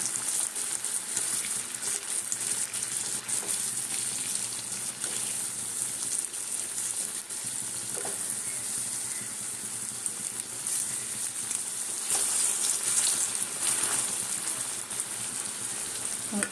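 Urad dal fritters (bora) fry in hot oil in a wok, giving a steady, dense sizzle throughout, with occasional soft clicks as pieces are turned, and no voices.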